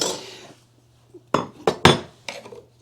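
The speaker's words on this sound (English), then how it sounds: "use my pry bar to get in there and hopefully not damage this." A pry bar works trim loose from a plaster wall, giving a scrape and then several sharp metallic clanks and knocks spaced over a couple of seconds, close by with no talking.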